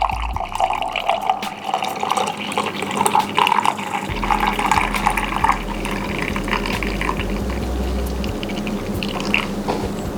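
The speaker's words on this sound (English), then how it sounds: "But I just poured it straight to the" Hot homemade apple jelly is poured into a jar, making a steady liquid trickle and gurgle as the jar fills, with light sticky splashing. It is close and continuous throughout.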